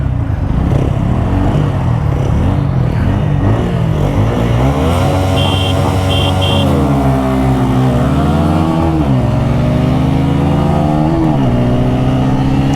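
A 2026 Bajaj Pulsar N160 and an older TVS Apache 160 4V motorcycle race in a performance test, their engines roaring loud and close throughout with steady revving that climbs and drops through gear changes.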